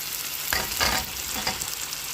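Peas and cauliflower go into a pan of softened, cooking tomatoes, setting off a steady sizzle of frying with a couple of brief louder bursts as the vegetables land and get stirred, up close with no talk.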